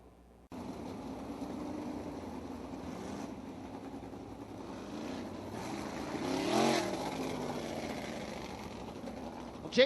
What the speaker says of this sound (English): Jason Sides just got on the throttle slightly going down the front stretch